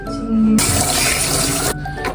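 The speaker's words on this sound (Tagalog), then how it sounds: "maghugas ako muna ng plato" A kitchen tap runs while dishes are washed. A loud, steady gush of water starts abruptly, pours continuously for over a second, then cuts off sharply, close to the listener with faint background hum.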